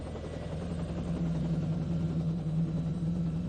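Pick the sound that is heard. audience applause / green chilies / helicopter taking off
helicopter taking off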